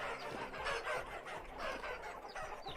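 Chickens in the video game Vintage Story cluck softly and continuously, several birds overlapping in a low, steady chatter with no talk.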